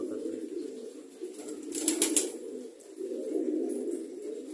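Pigeons coo in a low, continuous murmur at close range, with a brief fluttering burst partway through that may be wings, then the cooing continues steadily.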